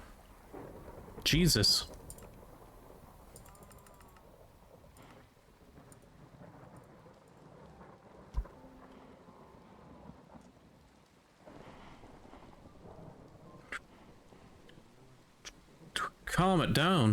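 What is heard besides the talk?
lightning and thunder in the video game Minecraft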